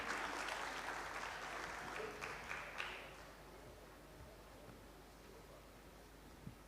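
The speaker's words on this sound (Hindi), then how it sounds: "आप सब मिलकर तालियां बजाएंगे" Audience applause at an Arts Council of Pakistan tribute event in Karachi, a moderate burst of clapping for about three seconds that fades into quiet room tone.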